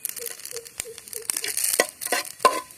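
Whole fennel seeds, cinnamon and cardamom hit hot oil for an egg curry, giving a close, steady sizzle with scattered crackles and pops, plus a few stirring scrapes in the pan.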